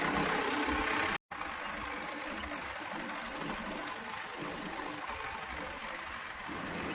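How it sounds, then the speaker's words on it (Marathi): A tractor engine runs steadily while being driven on a farm field, a continuous mid-pitched drone with a rhythmic knock and rattle throughout, broken by one very brief cut near the start. "आपले सर ट्रॅक्टर चालवायला लागलेत"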